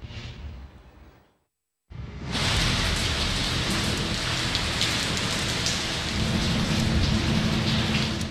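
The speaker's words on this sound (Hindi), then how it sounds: "गरज चमक और तेज हवाओं के साथ बादल जमकर बरसे।" Heavy monsoon rain pours steadily in Punjab with low thunder rumbling beneath, a dense continuous roar after a brief silent gap.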